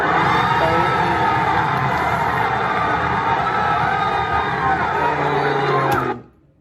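A loud crowd at a Tipsy D rap battle roars, cheers and whoops in a sustained wall of noise, then cuts off abruptly near the end.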